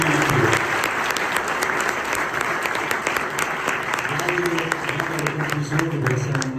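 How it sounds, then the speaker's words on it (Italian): Sustained audience applause in a live TV studio, dense and even throughout, with a voice speaking faintly underneath. "direi che tutti facciamo un applauso"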